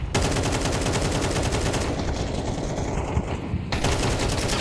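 AK rifle fire in a competitive esports shooter match: loud, rapid, sustained bursts of automatic gunfire that run almost continuously throughout.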